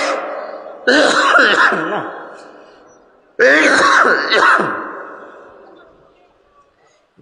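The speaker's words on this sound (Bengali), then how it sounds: "ধোলা ঢুকতেছে তো আমার এমনিতেই অ্যালার্জি সমস্যা," A man with a dust allergy, speaking at a daytime religious gathering, gives two loud, close, drawn-out bouts of coughing and throat clearing, each lasting about two seconds and fading out.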